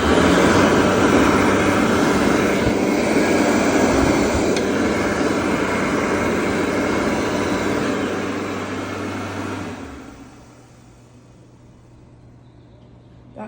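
A Bobrick Aircraft B-750 hand dryer blasts loud, close, broadband rushing air for about ten seconds, then cuts off, leaving a softer motor wind-down and quiet room hum.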